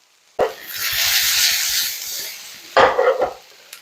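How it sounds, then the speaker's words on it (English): Onions and jalapenos sizzle loudly on a grill in a crackling burst, then fade before a second sharp flare of frying and scraping near the end. "Hear that nice sizzle?"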